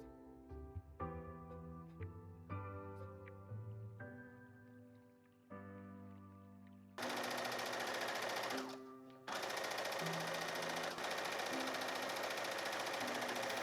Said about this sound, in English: this part you can just go ahead and stitch it with a regular straight stitch